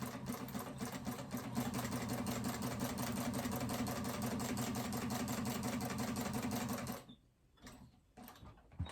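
A sewing machine runs steadily for about seven seconds, top stitching a phone pouch with red thread, then stops, leaving brief quiet handling noises close by.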